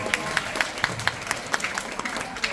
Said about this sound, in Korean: 박수 쳐드리세요.